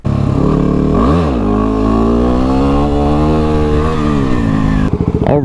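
A motorcycle engine revs hard and close, the pitch sweeping up and down in a rising, wavering whine before dropping off, as a rider tries a wheelie in an abandoned town near Niagara Falls, New York.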